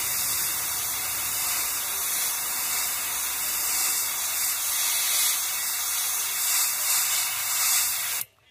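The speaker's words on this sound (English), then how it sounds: "There's a couple of drops of the pearl magenta, so we're just gonna spray the bottom part of his belly." An airbrush sprays pearl magenta paint onto the belly of a bluegill fishing lure, giving a steady close hiss that continues unbroken until it stops suddenly at the end.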